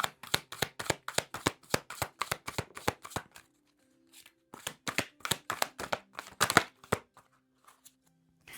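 Archangel tarot cards being shuffled and drawn, a quick run of crisp close riffling snaps, a short pause, then another burst of shuffling and card handling.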